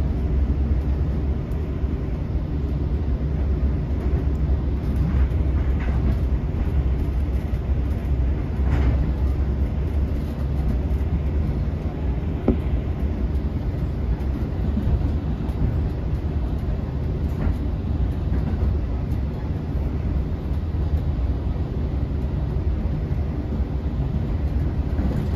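Steady low rumble and rattle of an LIRR passenger train riding from Ronkonkoma toward Greenport, heard from inside the car, with faint clanks and squeaks over a constant loud drone throughout.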